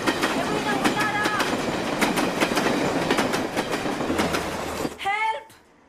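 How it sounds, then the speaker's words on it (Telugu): A train rattles past with loud, continuous clickety-clack of wheels and bright squealing streaks, then cuts off abruptly near the end of the scene, leaving near silence. "ఇక మళ్ళీ ట్రైన్ రావడానికి గంట పడుతుంది."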